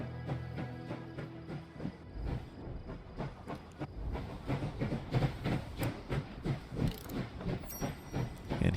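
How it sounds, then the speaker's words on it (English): A train in the video game Last Train Home starts moving, with rhythmic clanking and clickety-clack beats building steadily over a low rumble, a hiss and a brief high whistle-like tone near the end, no talking. "Let's go ahead and get this train moving."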